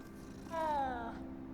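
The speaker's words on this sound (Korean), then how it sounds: "고양이! 안녕?" A cartoonish cat meows once in Hogwarts Legacy, a clear, falling, drawn-out call that stands out over a steady hum of game ambience.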